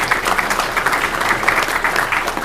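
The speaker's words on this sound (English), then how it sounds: "And again, round of applause for Boyd for doing a great talk here this mo" A conference audience applauds after a talk on Docker at a New York container technology event, steady dense clapping from a room of people that holds through the whole moment at moderate level.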